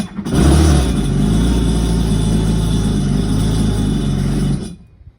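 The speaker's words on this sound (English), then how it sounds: "Just bump your key, hear those 2 beeps, and you can fire up your engine." A Kawasaki jet ski engine fires up and settles into a loud, close, steady rumbling idle, then cuts off abruptly near the end, leaving a brief fading tail.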